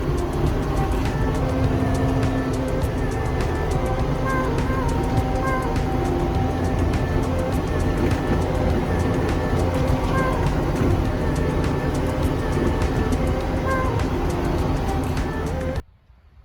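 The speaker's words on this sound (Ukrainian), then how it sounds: "Дуже приємна і тиха робота двигуна." A 1998 John Deere 6910 tractor engine runs with an even, smooth drone throughout, heard from close by with no talking, and cuts off abruptly at the end.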